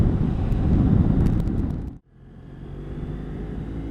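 Riding a BMW F700 GS motorcycle: a loud, close engine rumble with wind buffeting that drops abruptly to near silence for a moment, then builds back into a steady roar.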